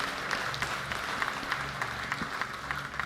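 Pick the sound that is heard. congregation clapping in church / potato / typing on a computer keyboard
congregation clapping in church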